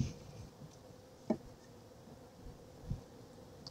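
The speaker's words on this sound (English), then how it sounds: "here's the rest of the bees in the basket still" A swarm of calm honey bees in a basket, faintly buzzing in a low, steady drone with a few louder passes close by, no voices.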